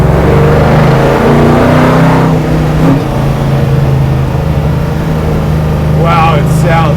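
A HEMI V8 in a 1968 Dodge Charger land speed car built for Bonneville rumbles loudly and steadily, its pitch rising and falling with revs, close up, with a voice speaking briefly over it near the end.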